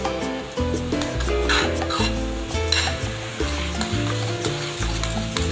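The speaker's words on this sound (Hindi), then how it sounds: "ये इसको अच्छी तरह मिक्स करना है जब तक ये दोनों कलर एक ना हो जाए।" A chocolate ice cream mixture is stirred in a bowl, giving loud close scraping and swishing strokes in an uneven rhythm that continues without speech.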